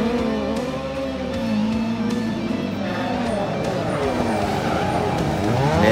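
Diecast Ford Escort RS Cosworth model car rolling down a rally stage track, a steady continuous rolling rumble with faint squeal-like tones, mixed under background sound at a constant moderate level.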